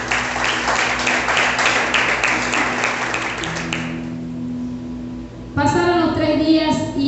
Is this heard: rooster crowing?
no